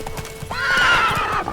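Horse in The Witcher 3 gives a loud, close whinny over a steady run of galloping hoofbeats, the neigh swelling and tapering across the middle of the short burst.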